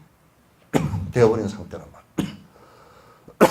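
A man coughs several times, in short harsh bursts with gaps between them, close to the listener, and the bursts mix with his voice.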